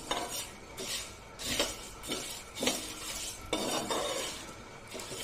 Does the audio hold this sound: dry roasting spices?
yes